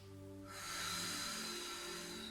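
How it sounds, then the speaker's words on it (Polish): A single strong, deep breath during a stretching routine, drawn close and loud and sustained for over a second, with no talking. "oddychamy trzy wdechy mocne"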